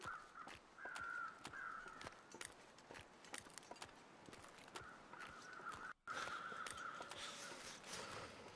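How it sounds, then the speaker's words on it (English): Crows in the video game The Long Dark caw in a series of harsh calls spread across the scene, over faint crunching footsteps and ambient wind, with a brief silence in the middle. "Crows are definitely up there,"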